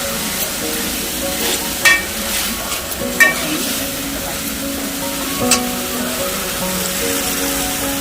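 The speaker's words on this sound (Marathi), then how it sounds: "पूर्ण याला गोल हलवून घ्यायचं मिक्स करून घेतलेलं बघा आता" Chicken masala stirred round in a pan, a soft steady sizzle with occasional scrapes and light clinks of the spoon, close and without talk.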